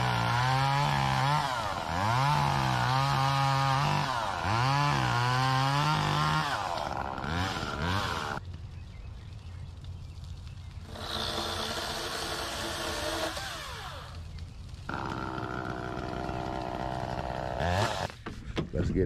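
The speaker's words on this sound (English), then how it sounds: "There go that chainsaw again, y'all." A chainsaw revs and bogs while cutting on a property, its engine note rising and falling in repeated surges, then dropping to a lower, rougher idle.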